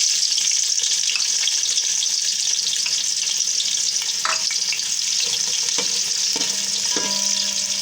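Onions frying in a cooking pot with whole spices such as chilli, cardamom, cloves and cinnamon for aloo matar pulao, a steady close broadband sizzle throughout with a few light clinks and scrapes of stirring, no voices.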